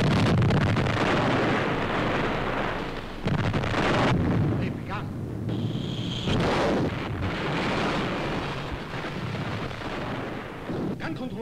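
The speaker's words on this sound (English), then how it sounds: "You can open fire." Heavy naval guns aboard a 1940 wartime convoy warship open fire in loud, continuous booming bursts, a dense roar of blasts and rumble filling the scene without pause.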